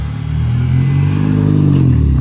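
A supercharged Mini with a GP wing revs up close at a cars and coffee meet, a loud, buzzing growl that climbs in pitch over a couple of seconds.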